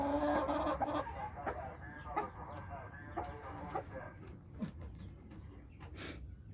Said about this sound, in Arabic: دي بقى رحمه ام الفراخ اللي بره